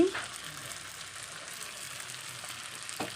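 Potatoes sautéing in a pan give off a quiet, steady sizzle with a few faint clinks, continuous and close, with no talking.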